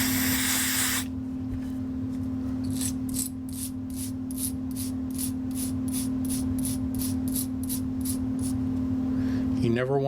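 Nitro Clean aerosol cleaner gives one short, loud spray burst at the start, followed by a long run of faint, rhythmic brushing strokes over a steady low hum.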